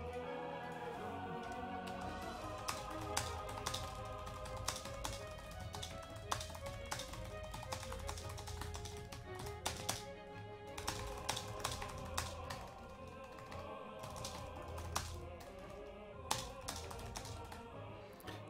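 Someone types a chat message on a computer keyboard during a Dark Souls 2 talk show stream, producing quiet, uneven key taps that sit under steady background music.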